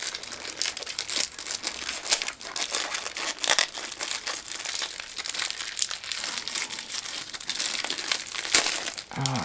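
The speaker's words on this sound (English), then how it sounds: "Comes in a plastic bag." Plastic bag crinkling and rustling as a corner-cut helicopter puzzle cube is unwrapped, with irregular close crackles and scrunches running throughout, no talking.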